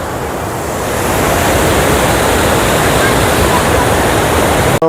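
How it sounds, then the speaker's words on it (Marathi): Rainy-season waterfall at Wandre near Mumbai, a loud, steady roar of rushing water that swells slightly and then holds constant. "हा मित्रांनो, एक नंबर वॉटरफॉल."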